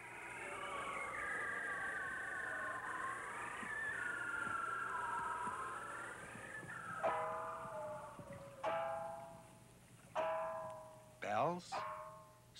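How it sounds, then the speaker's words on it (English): Underwater song of the bearded seal (Erignathus), long descending warbling trills that glide and waver, followed by several shorter sweeping downward whistles spaced a second or two apart, clear over a faint background hiss. "This is the song of Erignathus, the bearded seal."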